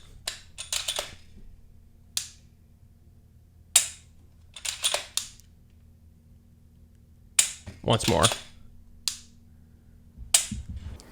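Glock 40 MOS 10mm pistol trigger resetting, several sharp dry clicks in small clusters spread across the span, close and crisp, with a short spoken phrase in between.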